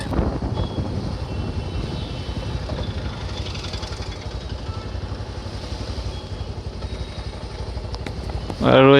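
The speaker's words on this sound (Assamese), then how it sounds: "আৰু এতিয়া বাইকটো ছাইডত লগাই ল'ম" A motorcycle ridden up to the Jagannath temple in Dibrugarh, with a loud, steady engine rumble and heavy wind buffeting throughout and a sudden louder burst at the very end.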